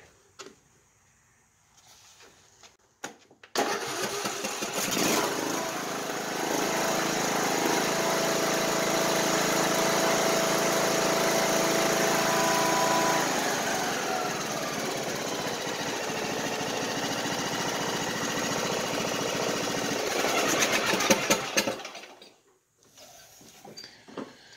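Craftsman YS4500 riding mower's engine starting cold, then running at a steady loud drone for about eighteen seconds before cutting off, with no talk over it.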